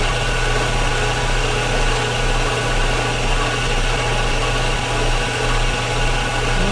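Steady machining noise from a lathe cutting a new oil pump drive shaft for a Farmall Super M tractor rebuild, a continuous even hum and whir with no voices.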